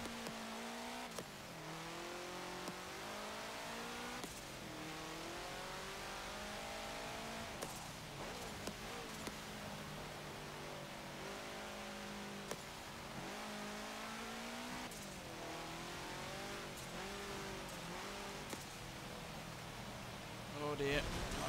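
A 1967 Volkswagen Type 3 1600 L engine revs and climbs through gears in the Forza Motorsport 7 racing game, rising and falling repeatedly at moderate volume with occasional tire noise.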